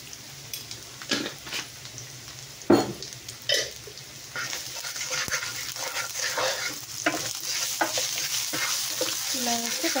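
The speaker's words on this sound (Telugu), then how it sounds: "అవి స్పైసెస్ మంచిగా కొంచెం ఫ్రై అయితే టేస్ట్ బాగుంటుంది అన్నమాట." Spices frying in chicken curry gravy while being stirred in the pan, making a low, steady sizzle with scraping stir strokes and a few louder clanks near the start.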